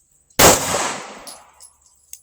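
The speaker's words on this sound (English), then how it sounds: "I'll just take a few shots down there and see if this thing feeds okay." A single loud shot from a Smith & Wesson M&P 2.0 pistol firing Winchester white box ammunition, a sharp crack that rings and decays, followed by a faint metallic clink.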